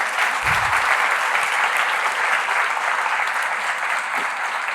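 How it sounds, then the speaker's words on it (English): Steady, full applause from an evening lecture audience fills the hall, a dense continuous wash of clapping with a low thump near the start and no speech over it. "Can we give Brent another round of applause for that?"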